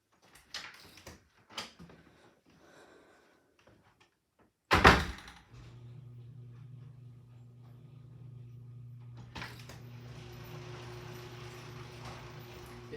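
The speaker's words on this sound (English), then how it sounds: "This time I'm going to go out and open the garage door." A garage door is opened: scattered clicks and footsteps, then a loud thunk as the mechanism starts, followed by a steady motorized hum that grows louder and brighter as the door travels. No one speaks.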